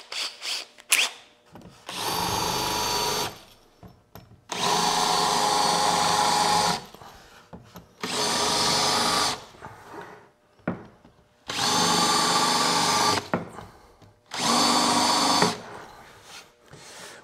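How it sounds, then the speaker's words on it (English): A power drill drives screws into a wooden tapering jig in five sustained bursts of high whirring, each lasting one to two seconds, separated by short pauses, loud and close with no talk. "I'm just gonna run a couple screws in from the bottom."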